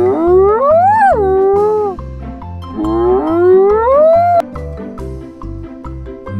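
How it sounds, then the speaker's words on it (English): Two long, rising whooping hyena calls ring out loudly over a steady rhythmic low backing beat. "Hyena lives in forests. They eat other animals."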